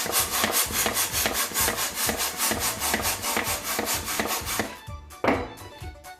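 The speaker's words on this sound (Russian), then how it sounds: "Раздуваем шар." A 12-inch balloon is inflated with a series of quick, regular rubbing pump strokes, close and fairly loud. The rhythm falters near the end with a single stronger stroke.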